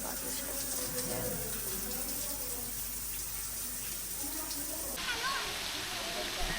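Strong water pours from a shower at Bato Spring in San Pablo, Laguna, making a continuous rushing hiss while a person talks over it nearby.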